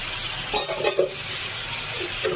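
Potatoes and cauliflower frying in a home kitchen give off a constant, fairly loud sizzle, with a few faint clinks of stirring and no talking.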